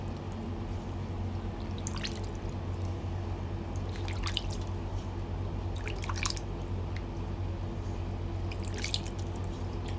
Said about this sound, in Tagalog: hugasan natin ulit yung dilis sa tubig na may asin